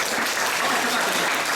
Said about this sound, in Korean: 우리 다 같이 우리들의 교회들을 환영하는 의미로 큰 박수 하겠습니다